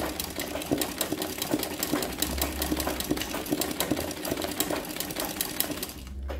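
Sewing machine stitching machine embroidery of apples, a steady fast mechanical chatter with regular needle clicks running continuously at moderate level, close up with no talking.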